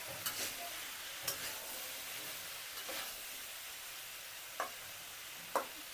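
A spoon stirs food in a pan over a soft, steady sizzle, with occasional sharp scrapes and taps against the pan at irregular intervals.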